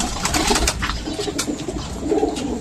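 Several pigeons coo close by in repeated low, throaty phrases, a steady chorus with occasional rustling in an enclosed space.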